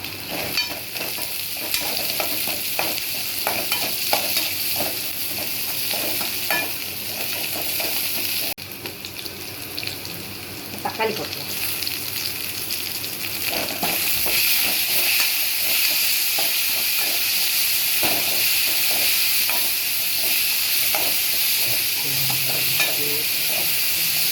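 Garlic, ginger, shallots and curry leaves frying in oil for an eggplant kuzhambu, a dense continuous hiss and sizzle with frequent soft stirring scrapes, close and steady with no talk.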